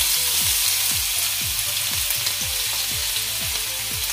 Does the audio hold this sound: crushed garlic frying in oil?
yes